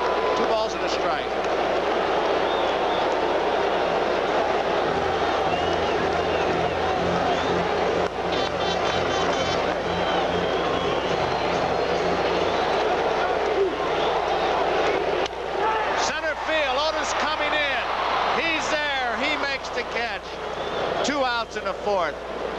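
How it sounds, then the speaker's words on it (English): Baseball stadium crowd at Game 2 of the 1980 World Series, Royals at Phillies, a loud continuous roar and murmur of fans filling the background beneath steady commentary from broadcasters. "Listen to the crowd."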